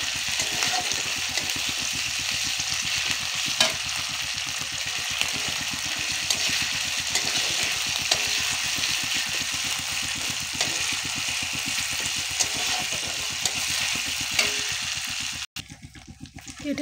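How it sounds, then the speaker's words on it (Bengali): Ginger-garlic paste stirred and fried in a pan for an egg curry: an even, unbroken sizzling hiss with a low rumbling undertone throughout, which cuts off abruptly near the end. "আদা রসুনের পেস্ট দিয়ে দিলাম, দিয়ে একটু ভালো করে নাড়াচাড়া করে নিলাম"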